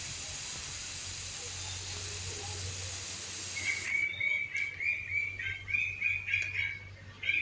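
Pressure cooker whistling with a steady steam hiss while cooking beef tripe, the first half a broad continuous hiss, then a pulsing high whistle bursting out in repeated puffs, close and moderately loud.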